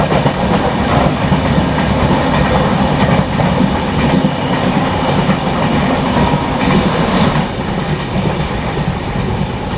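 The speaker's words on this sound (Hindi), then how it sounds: "अभी किसी एक्सप्रेस ट्रेन को अपनी हमसफर ने ओवरटेक मार दिया है यहाँ पर कोल्लम निकलने के बाद।" A Humsafar Express train runs at speed and overtakes another express train after Kollam, with loud, continuous rumble and steady clickety-clack from the wheels over the rails.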